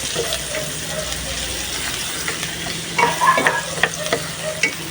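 Chicken feet being stirred and fried in a pan, a close sizzle under clinking, scraping spatula strokes that grow busier toward the end, with no voices.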